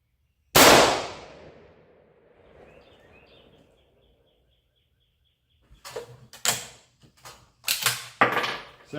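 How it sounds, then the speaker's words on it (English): A single loud shot from a Jungle Carbine rifle cracks near the microphone and rings out on a farm, followed later by a cluster of sharp clicks and metallic handling sounds. "Don't know how the sound is going to be on the camera with the gunfire"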